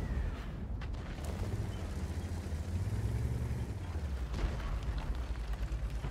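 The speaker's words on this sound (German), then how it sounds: "mal einen Schuss da in den Busch rein" E 75 TS tank cannon firing in a video game, a single heavy boom near the start followed by a rumbling engine drone, with a second muffled blast later under the continuous low rumble.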